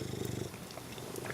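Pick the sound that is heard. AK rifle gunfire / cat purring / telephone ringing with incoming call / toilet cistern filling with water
cat purring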